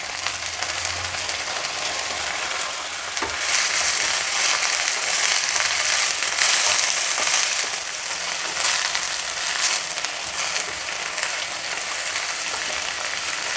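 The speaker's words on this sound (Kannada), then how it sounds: "ಈರುಳ್ಳಿ ಹಾಕಿ ಒಂದು ನಿಮಿಷ ಫ್ರೈ ಆದಮೇಲೆ ಇದನ್ನು" Onion frying in oil, a continuous hissing sizzle that swells louder after a few seconds, with occasional clicks and scrapes.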